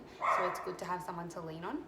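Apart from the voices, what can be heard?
dogs barking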